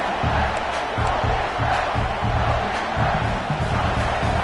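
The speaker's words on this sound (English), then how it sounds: "Listen to the crowd energy here in the early going" A large college football stadium crowd roars continuously with rising shouts and cheers, a dense wall of voices echoing across the stadium.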